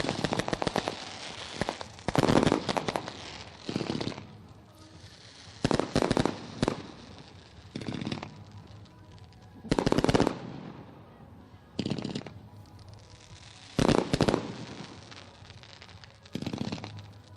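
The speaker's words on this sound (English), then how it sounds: "thank Lone Wolf Fireworks for lighting up the sky again here tonight" Fireworks burst over Ohsweken Speedway, a string of loud, sharp crackling volleys and booms arriving in clustered bursts with brief pauses between them, no talking.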